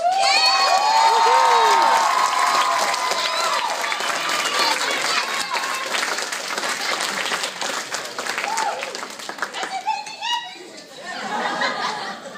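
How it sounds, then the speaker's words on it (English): A crowd at a convention cosplay contest claps loudly with cheers and whoops, the applause thinning out toward the end as scattered voices and a few last claps remain. "can you guys give them a round of applause?"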